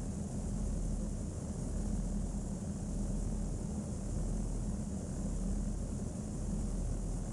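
Steady, continuous engine drone of an aircraft with a glass cockpit display in Flight Sim World, approaching a landing at Samos; a loud, unbroken broadband hum with strong low rumble throughout.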